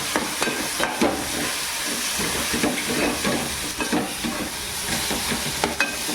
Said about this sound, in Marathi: जेवढी पेस्ट शिजेल ना तेवढी आपल्या बिर्याणीला चव येईल बघा मस्तपैकी अशी शिजून घ्यायची आपण कोलंबी